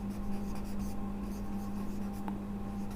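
Writing on a board during a chemistry lesson makes a steady, close scratching that runs for about three seconds over a low electrical hum, with no voices.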